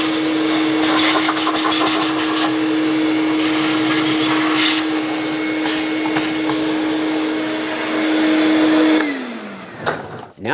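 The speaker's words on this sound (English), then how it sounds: "I'll use a vacuum cleaner for this" A vacuum cleaner runs steadily close by, sucking debris off a 3.7L V6 engine of a 2007-2013 Acura MDX, a loud continuous whine with a fixed hum that drops in pitch as the motor shuts off near the end, with clunks after.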